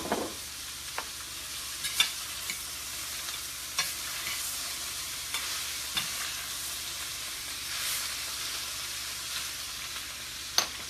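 Paleo breakfast scramble cooking in regular olive oil in a pan, with a steady close sizzle and occasional sharp scraping clicks from stirring, with no talking.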